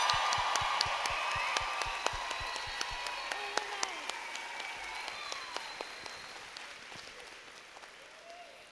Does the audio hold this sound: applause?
yes